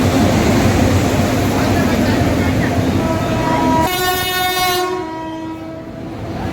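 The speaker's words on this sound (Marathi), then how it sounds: "आमची ट्रेन पण आलेली आता की बघा ही आमची ट्रेन" A train rumbles in loudly, then sounds a long horn blast that cuts off, leaving quieter station noise behind.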